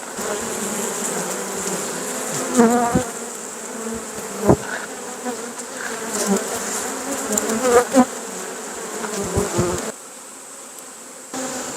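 Honeybees drone around a beehive in a dense, continuous buzz that stays close and fairly loud, with a few brief knocks and clicks breaking through.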